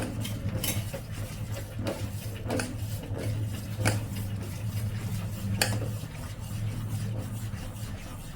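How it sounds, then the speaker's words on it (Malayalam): A utensil scrapes and clinks around a pot in steady stirring strokes over a constant low bubbling rumble of a wheat-flour drink boiling, with no voices. "അത് ചേർത്ത് കൊടുത്തിട്ട് നന്നായിട്ട് ഇളക്കി കൊടുക്കുക"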